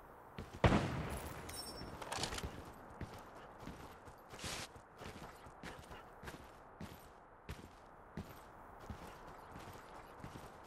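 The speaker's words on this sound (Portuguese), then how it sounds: "Ó, tá atirando alguém, mano." Gunshots in the video game Lost Light: a few sparse, sharp cracks spaced several seconds apart, fairly faint over a quiet background with light footstep-like taps.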